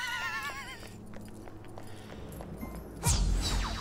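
A horse whinnies with a wavering, rising cry in the video game Smite, then hooves clop along and a loud thumping burst hits near the end.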